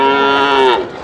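A young calf at a cattle market lets out a single loud, close moo that slides downward in pitch and fades at the end.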